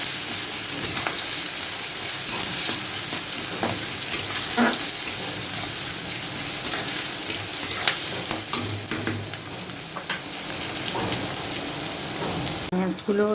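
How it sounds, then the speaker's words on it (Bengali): Onions frying in a pan over a high flame make a loud, dense sizzle that crackles steadily throughout, with occasional stirring scrapes close by. "পেঁয়াজগুলো লাল করে ভাজা হয়ে গেছে।"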